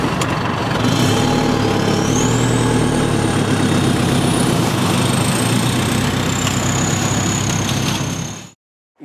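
A vehicle engine revs steadily as it drives out of a spot where it was wedged and stuck, loud and close, with a rising whine over the rumble, then cuts off abruptly near the end.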